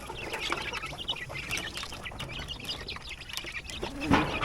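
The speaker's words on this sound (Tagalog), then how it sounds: "Ang sarap pa noorin yung mga sisiw, yung mga manok na nagrarambulan sa pagkain." Chickens and chicks scramble for food in the morning, clucking and chirping in a busy overlapping chorus at close to moderate distance, with a louder squawk near the end.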